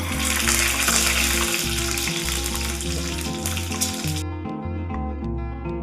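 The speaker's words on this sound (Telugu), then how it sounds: "హీట్ అయిన ఈ ఆయిల్లో బాయిల్డ్ ఎగ్ ని వేయాలి." Boiled egg dropped into hot oil in a bowl for an omelet, frying with a loud, steady sizzle and crackle that holds throughout, with a low hum beneath and some clattering.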